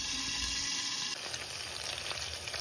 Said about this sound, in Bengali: তেলটাও গরম হয়ে গেছে, তো ভাবলাম মাছগুলো ভেজে তুলে নিয়ে আগে